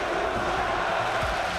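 A large esports arena crowd roars steadily for KOO Tigers at the Worlds finals, a dense, continuous wash of cheering and shouting with no break.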